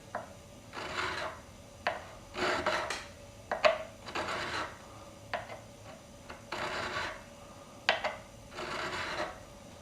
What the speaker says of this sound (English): I'm just taking this the medium wide file, and I'm on the medium side here, and just making my swipes across here in one direction